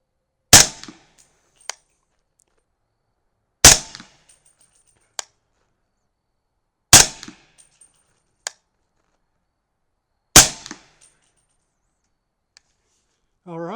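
Four sharp gunshots ring out roughly every three seconds while test rounds are fired for grouping, each a loud close crack with a short decaying tail and a faint click or echo after, with a brief voice at the end.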